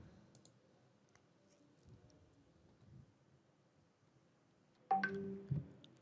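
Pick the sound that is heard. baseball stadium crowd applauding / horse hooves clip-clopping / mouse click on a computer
mouse click on a computer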